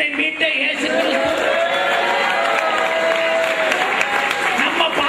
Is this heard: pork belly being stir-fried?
no